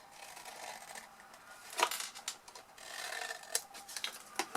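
Scissors snipping small wedges from card, a few quiet, close crisp cuts with light rustling between them in a hushed room.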